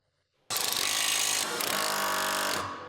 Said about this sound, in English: Hand start the hardware and use an 18mm deep socket to tighten.